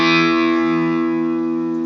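Chords played through a distortion effect ring out as a single sustained, buzzing chord that starts loud and slowly fades over two seconds.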